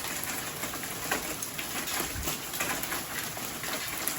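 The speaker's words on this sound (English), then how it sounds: "I did take a little video of it hailing. It's just probably pea-size, dime-size hail." Pea-size to dime-size hail falling outside, a steady dense patter of many small impacts with no talking over it.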